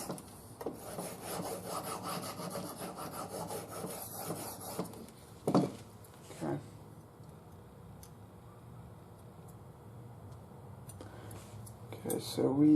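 Steady rasping strokes of a knife blade drawn across a sharpening stone, even and continuous at close range, with a couple of louder scrapes partway through and a brief clatter near the end.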